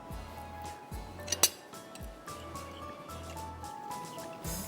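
Pasta salad dressing is mixed in a bowl for a smoked chicken pasta salad, with light clinks and scrapes of a utensil against the bowl, close and quiet, over a recurring low rumble.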